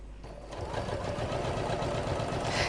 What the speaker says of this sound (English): Sewing 1/4 inch seam allowance on this one as well, using the same stitch length,